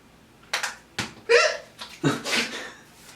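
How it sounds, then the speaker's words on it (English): Several sharp, abrupt hiccups from a person close by, spaced irregularly with short breaths between them, while hair is being styled with a curl product. "I have the hiccups."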